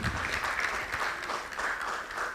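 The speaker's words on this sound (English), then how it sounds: "Let's give him another round of applause." Sustained applause from an audience, dense clapping that holds steady for a couple of seconds with no speech over it.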